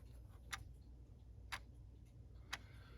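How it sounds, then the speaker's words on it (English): Battery-powered clock motor ticking steadily, three sharp ticks about one second apart, close and fairly faint over a low background hum. "I put the battery in, and you could hear it ticking"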